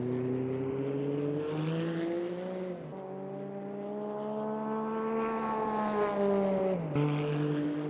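A Porsche race car engine in Automobilista 2 drones steadily at high revs, pitch rising and dipping through gear changes, loud and close with no talk.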